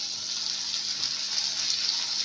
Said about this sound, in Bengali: গাজরটাও আমি এখানে 1 থেকে 2 মিনিট ভেজে নিয়েছি।